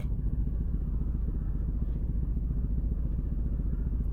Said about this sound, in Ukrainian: Два неробочих циліндра. Ось тому її так трусить сильно.